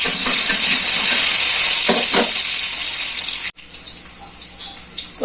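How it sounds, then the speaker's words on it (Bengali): A small batch of potatoes frying in hot oil gives a loud, steady sizzle with a few stirring clatters, then cuts abruptly to a quieter, softer crackle. "তো একইভাবে আমি আলুগুলো ভেজে নেব"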